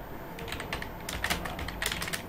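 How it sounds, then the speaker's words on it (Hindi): Fingers tap quickly on a computer keyboard during Krutidev typing practice, a quiet, close run of irregular clicky keystrokes with no speech. "और तो इस तरह से आप टाइपिंग यहाँ पर करेंगे।"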